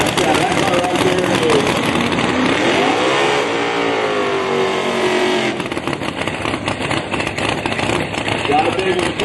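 No-prep drag race cars roar down the track at a racing event, loud engines rising and sweeping in pitch under continuous announcer commentary.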